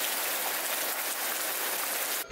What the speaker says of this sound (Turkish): Çok fena yağmura yakalandık.